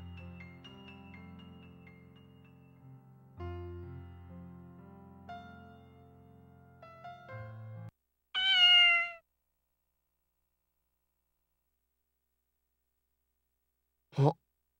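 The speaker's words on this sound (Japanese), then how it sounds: "なんでこんなところに猫がいるんだ？" A cat in the PS2 game Shikaku Tantei Sora no Sekai gives one clear, bright meow after soft background music stops, followed by a second very short mew several seconds later in silence.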